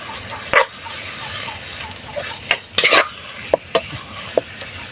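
Ingredients for ginataang cassava leaves sautéed in a pan, with a steady low sizzle under sharp scraping and clanking stirs of a utensil against the pan, several quick strikes near the end.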